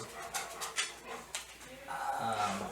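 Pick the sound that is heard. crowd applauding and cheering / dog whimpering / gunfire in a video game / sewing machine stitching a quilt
dog whimpering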